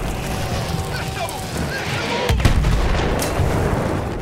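An artillery gun fires in the video game Battlefield 1: one heavy boom lands partway through over a constant rumbling battlefield din, while someone talks throughout.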